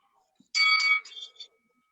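A round bell for a virtual fight practice rings in one short electronic chime with a brief trailing tone, clear against near silence.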